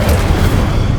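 An Incendio fire spell from Hogwarts Legacy erupts as a loud, dense, booming blast of roaring flame that holds steady for about a second, with no voices.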